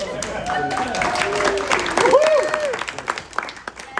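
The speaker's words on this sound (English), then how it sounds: "Big round of applause." An audience claps in a short burst of applause, loud and close, mixed with voices and cheering before tapering off.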